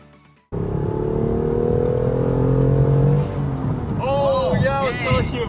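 A manual BMW M2 CS with Eventuri carbon intakes revs up in one steady, rising pull, loud and close, then eases off as people start talking over its lower running.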